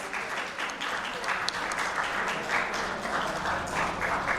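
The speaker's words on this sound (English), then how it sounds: "another big round of applause" Audience at a book launch giving a round of applause, sustained many-handed clapping at moderate distance with a steady, even texture throughout.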